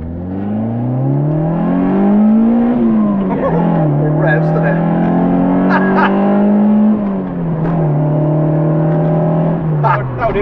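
A Citroen AX GT running a MaxxECU is driven, its engine loud and close, revving up and down through the gears with rising and falling pitch, and a voice is heard over it.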